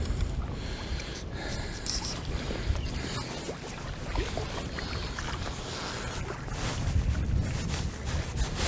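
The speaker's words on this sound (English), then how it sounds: "this is kind of howling gale at the moment" Strong gale-force wind roars across the microphone outdoors at a fishing match in rain, a continuous blustery rush with gusts swelling louder near the end.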